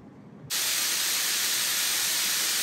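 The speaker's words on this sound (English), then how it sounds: "I need to brown this roll of breakfast sausage" Breakfast sausage browns in a pan, a sudden loud hiss of sizzling that starts after a quiet half second and then holds steady and close.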